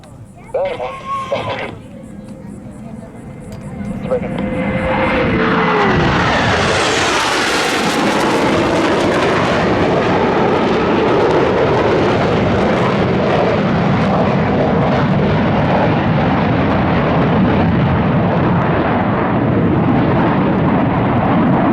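Blue Angels jets performing the Delta pitch-up break at an air show at Pensacola NAS: a public-address voice at first, then a roaring jet sweep that swells loud and holds as a broad, sustained overhead rumble.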